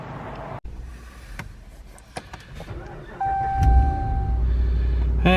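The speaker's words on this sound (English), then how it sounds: "And she come to life." A 2020 RAM 1500 pickup with the 5.7 Hemi V8 starts at night: a few clicks and faint cabin noises come first, then the engine fires about midway and settles into a steady low idle rumble.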